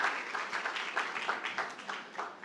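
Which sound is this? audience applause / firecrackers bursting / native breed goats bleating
audience applause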